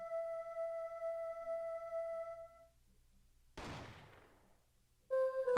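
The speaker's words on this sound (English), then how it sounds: "Why, it sounded like a gunshot." A gunshot from a recording in the video game Ace Attorney: Apollo Justice: steady musical tones fade out, then a single loud, sharp blast decays quickly before the tones resume.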